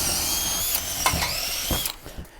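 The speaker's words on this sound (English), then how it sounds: "then I'll finish drilling them in just a second" A power drill bores holes into a 2x4 while reinforcing sheetrock for a weight-bearing ceiling support, giving a steady close whine with several short bursts and clicks as the bit works through the wood.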